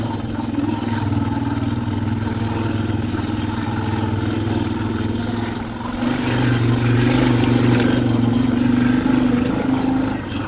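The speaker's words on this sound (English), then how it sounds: "If you listen to the way the engine is running on this, it's just basically chugging over and around everything." A Suzuki DR650 motorcycle engine chugs along steadily on a trail ride at Wolverine Creek, a loud, continuous mid-pitched drone with a slight lift in tone partway through and no voices.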